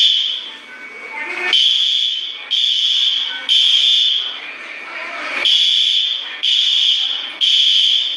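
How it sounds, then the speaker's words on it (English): Fire alarm sounding inside an Olive Garden restaurant, a loud piercing electronic tone pulsing on and off in repeated roughly one-second bursts, close and dominant, with faint voices underneath. "You can't just be pulling the fire alarm like that."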